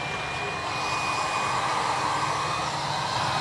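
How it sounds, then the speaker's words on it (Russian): A hair dryer or heat gun is switched on for work on a car's front fender, giving a loud, steady airy whoosh with a faint high whine that runs unbroken throughout, with no talking. "Для этого нам нужен будет фен, да?"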